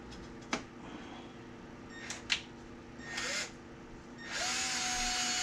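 A few sharp clicks and short bursts, then a high, sustained grinding whine of a drill slowly boring into a Chevy LS harmonic balancer's metal for a crank pin, growing steadier toward the end.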